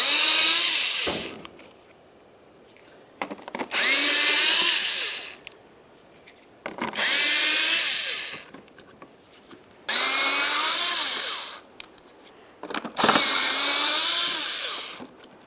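Power tool loosening 10mm bumper mounting bolts on a 2006-10 Ford Explorer: five loud whirring bursts of a few seconds each, separated by short quiet gaps with faint clicks.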